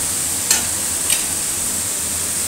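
Cauliflower frying in a pan with a steady bright sizzle throughout, and two brief scraping strokes of stirring standing out near the start.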